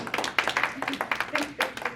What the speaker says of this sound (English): golf clap for the first group. Golf clap.